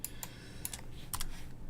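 Keys tapped on a computer keyboard during 3D modeling work, a few crisp separate clicks up close in a quiet room.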